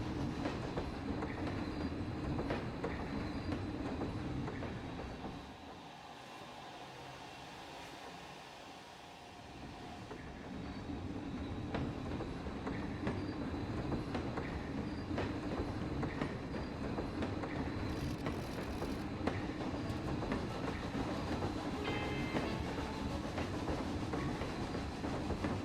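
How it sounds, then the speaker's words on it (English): A game train rolls through a theme park built in a park-building video game, a steady rumbling ride with clickety-clack rail noise throughout and a brief quieter dip partway through. "enjoy the rest of this train ride"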